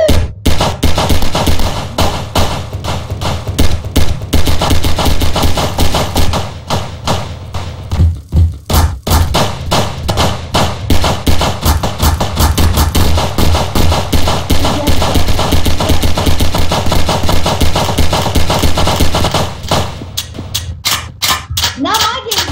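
Rapid gunfire in Garry's Mod gungame play, a dense, loud run of sharp repeated shots and thuds that carries on almost without a break, with brief gaps and people talking over it.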